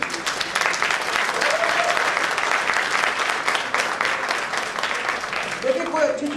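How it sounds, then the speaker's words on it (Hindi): Steady applause from an audience greeting a presenter at a talk fills the whole stretch, dense and even, with brief tonal touches of voices rising through it. "Please a big round of applause for Sunil ji."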